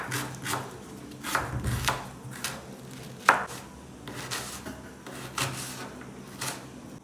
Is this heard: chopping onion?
yes